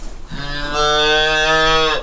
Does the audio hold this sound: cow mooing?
yes